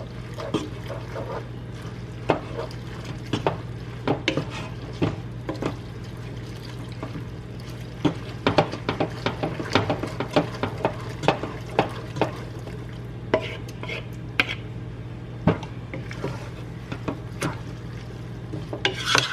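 A bacon tomato linguine sauce thinned with pasta water is stirred in a pan, with many sharp scrapes and clicks of a utensil against the pan over a constant low simmering hum.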